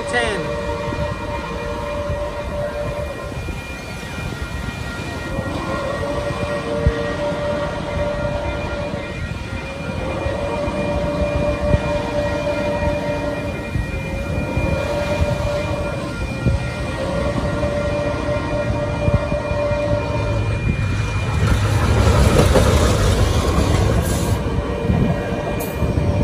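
A Metrolink commuter train rolls into San Clemente near the pier, a loud sustained rumble with a repeated tonal horn or bell pattern and rhythmic wheel clatter building toward the end.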